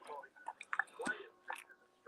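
A dog munches on a gravy bone treat close by, with soft, irregular crunching and wet chewing bursts and quiet breathy sounds between bites.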